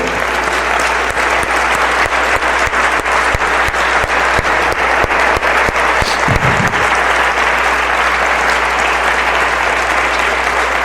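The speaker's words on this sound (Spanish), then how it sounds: "podríamos darle una ofrenda de palmas a la sangre de Cristo" A church congregation claps together in a steady, even rhythm, loud and sustained, with a brief low voice or shout partway through.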